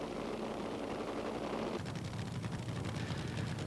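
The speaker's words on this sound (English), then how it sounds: "And laying down the smokiest burnout I think we've seen here for a long time, Gerald, is Glenn Michaels." A nitro dragster at a drag racing nationals event does a burnout, a loud roaring, hissing blast of engine noise and tyre spin that fills the air and shifts tone midway.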